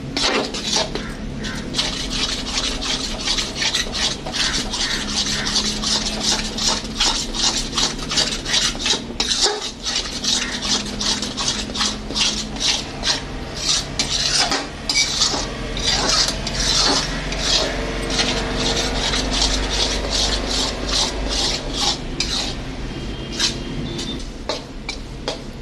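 Wheat flour roasting in ghee in a pan is stirred continuously, giving a loud, dry, rhythmic scraping and rasping of the spoon against the pan bottom that repeats steadily throughout.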